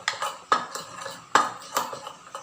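A spoon stirs butter and Milo in a pot as the butter melts for a homemade Oreo cake. Several sharp metallic clinks and scrapes sound close and fairly quiet, in an uneven rhythm.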